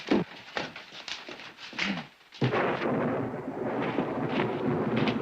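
Thunder from a storm rumbles in several heavy booming rolls, with a sharp crack partway through followed by a long sustained roar.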